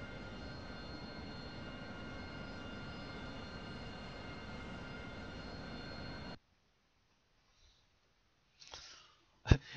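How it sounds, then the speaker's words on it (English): Harrier jet engine in the DCS flight simulator game, a loud steady roar with a high whine held for about six seconds, then cutting off abruptly to near silence with a few faint breathy noises. "I'm going to try to take off like a plane first"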